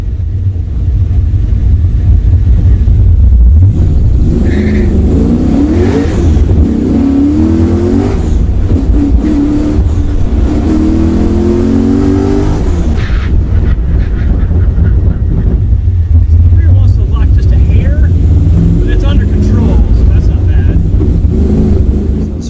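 A 2015 Ford Mustang with swapped ABS is driven hard during an ABS brake test on a road in Mexico, its engine and road roar loud and constant amid heavy wind buffeting, with a voice talking underneath.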